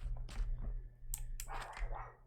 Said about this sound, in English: oh, my dog is going crazy